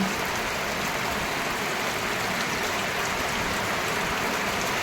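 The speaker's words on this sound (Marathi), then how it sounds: "थोडं वसरे आल्यामुळे इकडं पाऊस पावसाचे वसरे आले बघा" Steady rain showers falling over goat pasture and farmland near hills, a continuous even hiss of drops with no breaks, loud and close throughout.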